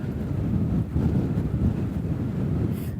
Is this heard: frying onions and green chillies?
no